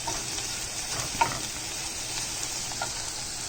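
A ground spice-powder mixture for sambar, stirred and sautéed in a pan over a high gas flame, gives a steady close sizzle with a couple of brief scraping, clinking stirs and no talking.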